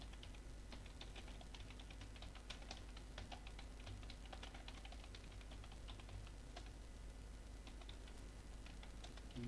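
Steady typing on a computer keyboard while working in Microsoft Word, a continuous run of quick, light key clicks close to the microphone, with no talking over it.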